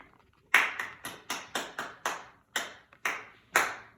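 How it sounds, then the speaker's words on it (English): Hands clap out a rhythmic pattern in a classroom music lesson, about ten sharp, close claps with uneven spacing and short silences between, no voices. "Let's clap it and we'll audiate."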